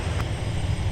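An airliner takes off from runway 17 at MSP airport, a steady, loud, broad jet-engine roar with a deep rumble, heard alone throughout.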